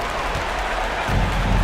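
Arena crowd in an NBA 2K25 basketball game applauds and roars as a dense, continuous wash of noise that swells louder toward the end.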